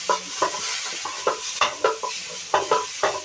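A utensil scrapes and clatters through fish frying in a pan: about a dozen quick, irregular stirring strokes over a steady low sizzle, close and fairly loud, with no talking.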